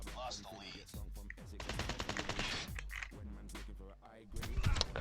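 Rapid automatic gunfire from the mobile shooter game Call of Duty Mobile, bursts of close, loud shots repeating over several seconds and mixed with game sounds.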